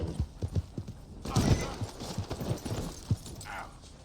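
Horse hooves in Red Dead Redemption 2, a run of close, rhythmic clip-clop steps that quickens into a brief scrambling flurry, with a game voice and a player talking over them.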